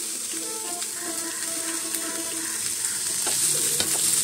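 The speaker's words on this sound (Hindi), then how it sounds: "इन सभी को हम हाई फ्लेम में भूनेंगे" Mixed vegetables with cabbage frying on high flame in a pan, a continuous bright sizzle with occasional stirring clinks, growing slightly louder toward the end.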